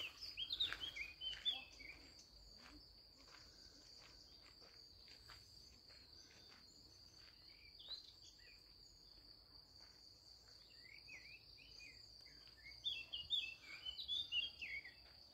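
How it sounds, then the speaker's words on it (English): Crickets chirp steadily beside Šmartno Lake near Celje, Slovenia, with light bird calls and tweets rising over the insect drone, loudest at the start and near the end, in a quiet outdoor setting. "So you can enjoy the radio nature, the birds singing."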